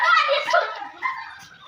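A dog yips and whimpers in a short burst of high, nasal barks close by, with people talking around it.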